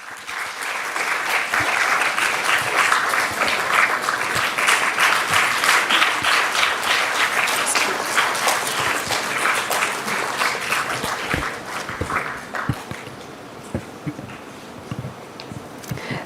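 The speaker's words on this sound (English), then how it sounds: "May I also request everyone to keep the applause going." Sustained applause from a conference audience at an inaugural session, dense and steady clapping filling the room for about twelve seconds before thinning into scattered claps.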